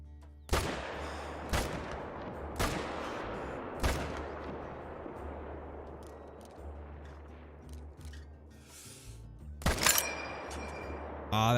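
Rifle shots ring out in a whitetail hunting video game, a sharp report near the start followed by several more spaced cracks and a final loud shot, each trailing off in echoing decay.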